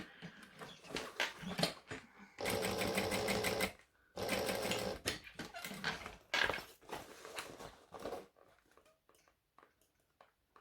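A domestic sewing machine stitches a seam in two loud, steady whirring runs of a couple of seconds each, with quieter handling clatter and soft rustling around them.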